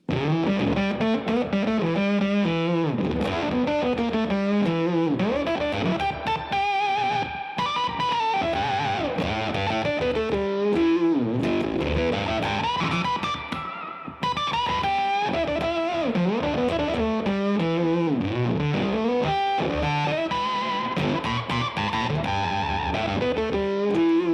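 An electric guitar plays through a Kingtone Octaland octave fuzz pedal, continuous and loud, with bending notes and a saturated, buzzing tone that loses some high end and sputters out.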